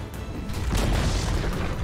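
A tower collapses in Dota 2 with a deep, rumbling boom that swells and sustains with crumbling debris texture, loud and full throughout.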